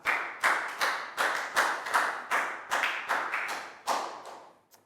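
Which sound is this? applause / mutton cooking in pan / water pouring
applause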